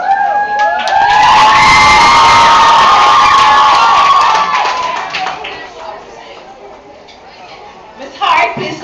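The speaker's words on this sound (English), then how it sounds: "That's why the applause is so loud." A graduation audience at the Alvernia Preparatory School 2008 ceremony erupts in loud cheering, whoops and clapping that hold for about five seconds, then fade to murmuring before a brief shouted burst near the end.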